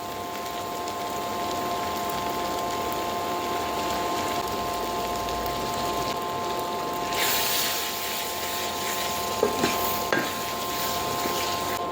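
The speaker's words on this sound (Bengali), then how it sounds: "এখন আমি দিয়ে দিচ্ছি এই চিংড়ি মাছের ঘিলুগুলো ফ্রেশ ঘিলু" Fresh shrimp brains frying in a pan, a steady close sizzle throughout that swells louder partway through, with a few brief clinks of stirring.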